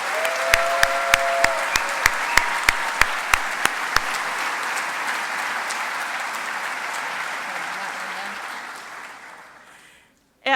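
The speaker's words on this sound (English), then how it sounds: "A big round of applause for our Wish Kids." Loud, full audience applause for the Wish Kids at the Make-A-Wish Michigan WAMmy Awards Ceremony 2013, a thick sustained wash of clapping with sharp clicks early on, tapering off into near silence at the end.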